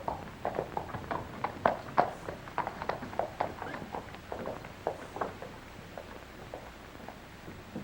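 Horses galloping in the 1934 western film The Star Packer, a quick irregular clatter of hoofbeats at moderate distance, fading slightly toward the end, heard alone without talk.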